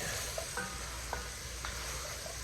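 Malanga blanca is stirred with spices and aromatics in a pan, a soft steady sizzle under a few light scraping clicks of a utensil against the pan.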